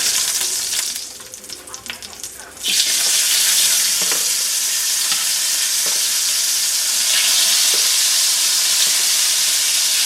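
A batch of food fries in a hot pan with a steady, loud sizzle, a quieter stretch at the start before the hiss surges and holds, with faint clinks of stirring now and then.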